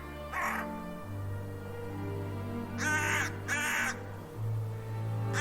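A crow caws three times outdoors, with a single call followed after a pause by two close harsh caws in quick succession, over a steady low hum.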